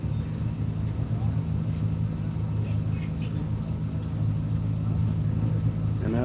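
A race car at the Tire Rack One Lap of America event runs on a track, its engine a low, steady rumble that builds slightly toward the end, with people talking over it.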